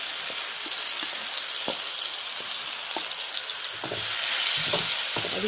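Marinated chicken pieces fry in hot oil in a pan with a steady, close sizzle throughout, broken by occasional crackles and light clatters that grow a bit louder near the end.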